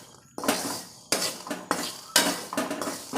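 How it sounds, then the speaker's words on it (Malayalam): Peanuts roasting in salt in a metal pan, stirred with a utensil in several bursts of gritty, rattling scrapes and clinks, close and loud with short pauses between strokes. "കടല ഉണങ്ങിയതിന് ശേഷം നമ്മൾ ഇതുപോലെ വറുത്തെടുക്കുകയാണ് നല്ലത്"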